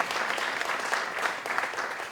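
Steady, dense applause from a crowd at an awards ceremony held at City Hall in Bermuda, clapping continuously and evenly at moderate loudness throughout with no pauses.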